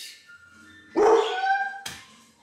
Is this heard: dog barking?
yes